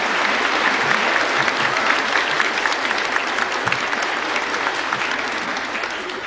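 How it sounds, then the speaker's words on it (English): A large audience applauds, dense, sustained clapping that holds steady and tapers only slightly toward the end. "please give them another round of applause"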